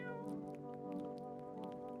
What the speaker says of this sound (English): Just feeding the cat as much as we can.